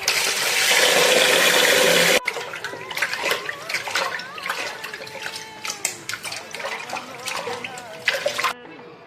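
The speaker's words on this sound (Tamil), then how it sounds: "இதை நீ கழுவி எடுத்து நீட்டாக கழுவி தனியாக மாற்றி வைக்கலாம்." Raw beef, about a kilogram, being washed by hand in water in a home kitchen: a loud rush of running water for the first two seconds, then repeated splashes, sloshing and clinks of meat and bowl, close by.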